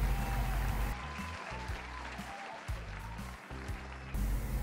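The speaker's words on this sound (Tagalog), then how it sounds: "Virtual na palakpak para sa lahat" Applause sound effect in a Filipino language lesson, steady clapping under a background music track with shifting low notes.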